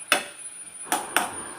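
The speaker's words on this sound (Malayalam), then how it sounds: "ചട്ടിയെ പിടിക്കാൻ പറ്റാത്തതാണ് കേട്ടോ ഈ സൗണ്ട് കേൾക്കുന്നത്, ചട്ടി ഇളകുന്നത്" A cooking pan of egg curry rattles on the stove as it is stirred, giving three sharp, close clacks, one alone and then a quick pair.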